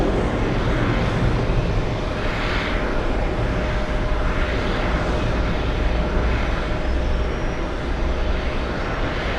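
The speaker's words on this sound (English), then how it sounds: "American 66 to Barcelona. Takeoff from runway 13 right." An American Airlines jet bound for Barcelona takes off from runway 13R at JFK, a loud sustained engine roar with a broad rumbling low end that stays steady throughout, with no voices.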